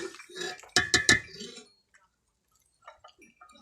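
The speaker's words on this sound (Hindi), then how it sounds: "ऊपर से हम ढक्कन लगा देंगे" A metal lid is set down on a cooking pot of potato and pea rice, giving a couple of sharp, close clinks after some soft shuffling, followed by faint small ticks and near silence.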